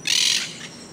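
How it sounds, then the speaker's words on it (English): Wild parrots squawk from a tree in Old San Juan, Puerto Rico: one loud, harsh call right at the start, then a weaker follow-up cry before it fades to quiet outdoor ambience. "there were 2 parrots coming into the tree"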